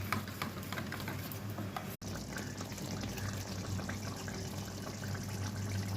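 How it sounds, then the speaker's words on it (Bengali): Yogurt is beaten with a packet of chana masala spice, giving a steady wet stirring and whisking noise at low level, close and continuous, with only a brief break partway through. "দইয়ের সাথে আমি 1 প্যাকেট চানা মশলা ভালো করে ফেটে রেখে দিচ্ছি"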